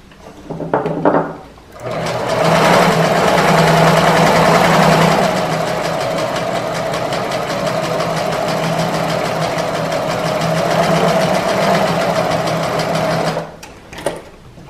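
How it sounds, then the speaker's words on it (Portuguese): A home sewing machine runs a seam in one long continuous burst of loud, close mechanical whirring and rapid needle chatter, preceded by a few short starts and ending in a quick stop. "Quando eu faço uma costura, eu dou espaço de um pezinho de máquina para fazer a segunda."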